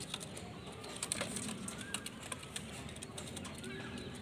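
A pigeon coos softly while held in the hand, its low murmurs faint beneath scattered rustling and background chatter.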